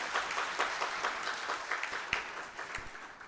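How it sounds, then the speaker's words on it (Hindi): An audience claps for a guest at an event in Karachi, giving a brief burst of dense, even applause at moderate volume from a roomful of people. "आप सब उनको यहाँ वेलकम करें तालियों की गूंज में"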